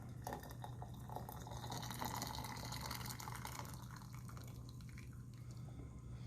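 Water pouring from a Walmart Mainstays 1.7-liter electric kettle into a vessel: a continuous, fairly steady trickling and splashing stream, close by, with a low electrical hum underneath and no talking.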